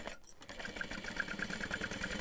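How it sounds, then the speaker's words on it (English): Sewing machine stitching along the bottom of a fabric backpack, a quick rhythmic mechanical whir with regular needle clicks, close and fairly quiet, starting after a brief pause. "And then we just need to sew along the bottom."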